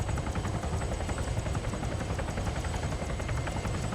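A helicopter in Arma 3 drones steadily with rapid rotor chop and a broad whooshing engine noise, constant and fairly loud throughout with no voices.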